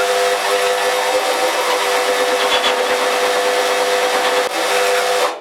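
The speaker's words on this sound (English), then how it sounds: "While we're doing a bit of hole sawing, I'm doing a drill press rather than the mill" Steady, loud grinding whine of a hole saw biting through material on a drill press, continuous throughout with a brief dip near the end.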